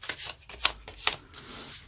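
Tarot cards shuffled by hand in a brief, soft riffling burst, with a few sharp flicking snaps standing out, fairly close and quiet with no talking.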